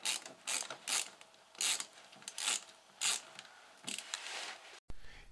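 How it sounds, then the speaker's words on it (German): Allen key easing a plastic fitting loose on a Porsche 944 during fuel line work: a series of close, ratchet-like clicking turns in uneven bursts, ending with a short sharp knock. "Wenn der Imbus mal steckt, mit viel Gefühl langsam das Plastik lösen."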